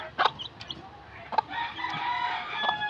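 A hen clucks softly near newly hatched chicks, with short clucks and faint peeping calls scattered over a quiet farmyard background.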